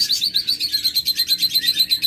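Small pet birds for sale, such as budgerigars, lovebirds and cockatiels, chirp in a shop in a rapid, continuous run of bright, high tweets, loud and close, with no voices.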